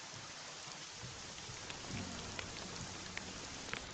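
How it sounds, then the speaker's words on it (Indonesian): Heavy rain pours with thunder rumbling low beneath it, a dense, steady downpour hiss with a deep roll swelling midway, fairly faint and without voices. "Hujan mulai jam 8,"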